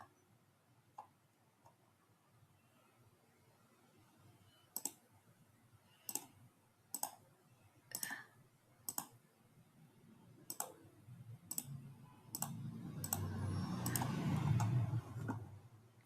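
Mouse clicks and keyboard shortcut presses while drafting a pants pattern in CLO3D software, a sparse series of sharp, close single clicks at irregular intervals, followed near the end by a louder rustling burst.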